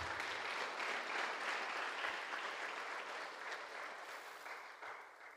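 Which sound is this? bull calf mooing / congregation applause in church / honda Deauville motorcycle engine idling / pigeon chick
congregation applause in church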